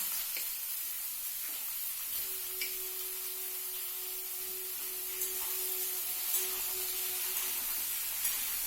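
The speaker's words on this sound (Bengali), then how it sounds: "পটলটাকে একদম লাল লাল করে ভাজবো পটল আর আলুটা একসাথেই দিয়ে দিচ্ছি" Pointed gourd and small potato pieces frying together in a pan, giving a steady, quiet sizzle with occasional faint crackles and no talk.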